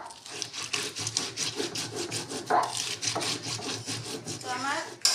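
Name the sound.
grinding coriander, cumin, ginger and chilli spices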